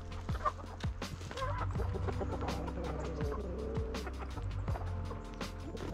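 Chickens clucking inside a coop run covered with chicken wire, a busy chorus of overlapping clucks and short calls, close and fairly quiet.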